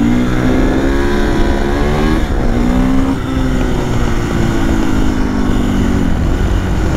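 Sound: moped engines revving at an off-road riding spot

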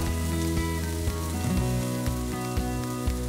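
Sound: peeled shrimp and squid rings sizzling in a frying pan

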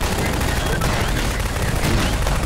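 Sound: gunfire in the video game Garry's Mod

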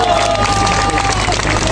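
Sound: crowd applauding at a rally

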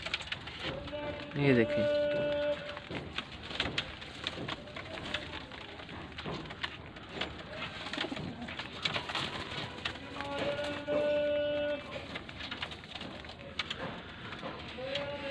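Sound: pigeons cooing

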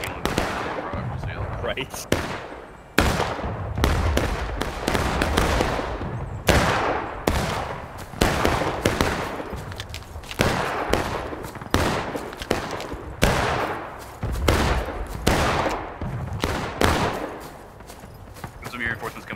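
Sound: musket volley gunfire in War of Rights video game

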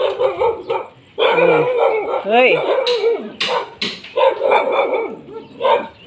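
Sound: dog barking

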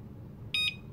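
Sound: classical door alarm beeping while being armed

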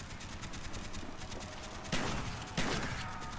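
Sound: shotgun fire in Call of Duty Zombies video game

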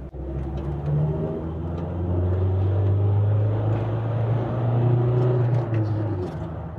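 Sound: Volkswagen Transporter 2.0 TDI van accelerating

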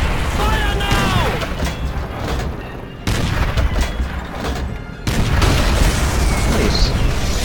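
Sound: tank cannon firing and explosions in the video game Call of Duty

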